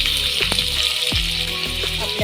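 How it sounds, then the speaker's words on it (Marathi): A whole batch of onions dropped into hot oil, a loud, dense sizzle close by with a few clunks of a pan or spoon; no talking. "आता आपण हे पूर्ण कांदा घालूया त्याच्यामध्ये"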